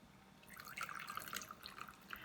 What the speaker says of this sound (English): And here is our warm water. It is not too hot. I can put my finger in, but it's nice and warm. I'm going to pour that in.